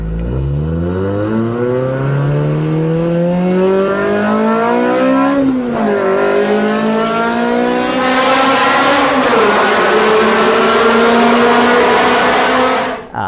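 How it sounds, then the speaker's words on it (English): Sport car exhaust through a Cray single-tip sport muffler, loud and close as the engine revs up through rising gear pulls with brief dips between shifts, a rich raspy note with no talk over it. "An amazing exhaust note."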